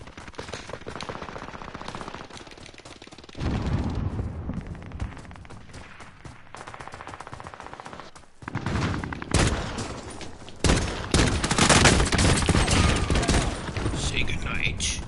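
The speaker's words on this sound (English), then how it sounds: "I got the akimbo pistols." Rapid pistol gunfire from dual-wielded akimbo pistols in the video game Call of Duty Warzone, loud repeated bursts of shots over game effects, with a voice talking at times.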